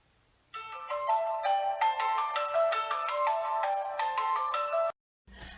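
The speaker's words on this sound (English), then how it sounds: "That was my son ringing the phone." A telephone sounds with a melodic electronic ringtone, a bright repeating tune that plays clearly for about four seconds in a quiet room, then stops abruptly before faint rustling noise.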